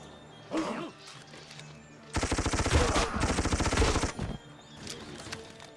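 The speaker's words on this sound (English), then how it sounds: "My machine gun will help with that." Machine gun firing in the strategy video game Civilization 5 during a Great War era battle, a loud rapid burst of repeated shots lasting about two seconds, preceded and followed by quieter game sounds.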